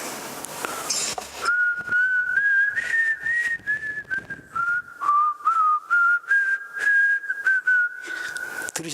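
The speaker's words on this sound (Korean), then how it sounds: "휘파람 소리인데, 휘파람으로 제가 무슨 곡 했습니까?" A clear, steady whistled tune carries on alone for several seconds, with a faint click and noise at the start.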